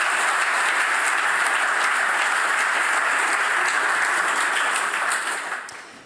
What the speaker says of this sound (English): a big applause for Professor Hans